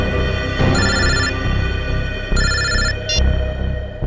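A telephone rings in a tense crime-drama scene, giving loud electronic trilling bursts, two long ones and a short third, against a low background.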